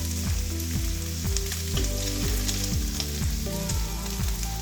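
Chicken pieces fry in a pan, giving a steady broadband sizzle that sits under loud, rhythmic background music with a pulsing bass line throughout.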